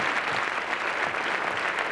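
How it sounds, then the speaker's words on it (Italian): Audience applause at an Italian live show about digital culture, a steady, moderately quiet wash of clapping that holds for a couple of seconds. "Un applauso, grazie."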